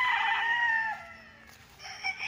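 A rooster crows on a fenced hectare farm lot in Liliw, Laguna, a bright drawn-out call near the mic, followed by shorter clucks from the chickens, with no talking.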